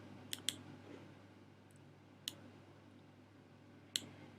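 Sparse computer mouse clicks during software setup, a quick pair near the start, another single click midway and one more near the end, crisp and fairly close against a faint steady background hum.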